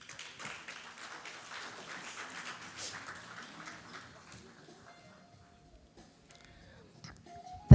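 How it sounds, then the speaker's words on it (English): Applause from a conference audience at a cybersecurity event as a speaker comes on stage, a moderate wash of many hands clapping that fades out over several seconds into quiet room tone. "If you may please give her a warm round of applause, please"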